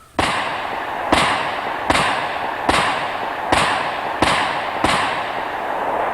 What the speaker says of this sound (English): In firing, I don't think you're going to see a lot of muzzle jump.